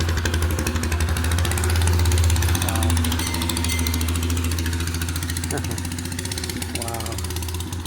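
A motorcycle engine runs at a steady idle-like rumble, loud and continuous throughout, while people talk over it.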